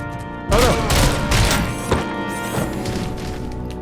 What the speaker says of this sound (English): Who's shooting me from back here?